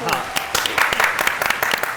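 Applause for an actress during a drama review show, brief clapping heard beneath continuous talking.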